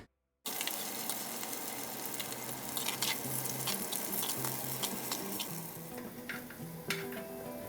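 Onion, ginger and curry leaves sautéing in hot oil in a clay pot: a loud, steady close sizzle with occasional stirring scrapes and clinks, no voices.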